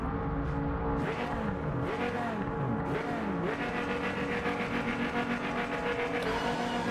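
Viper GTE race car engine in the Project Motor Racing video game, a steady loud drone with rising and falling pitch sweeps as the car shifts and accelerates, continuous throughout with no talk.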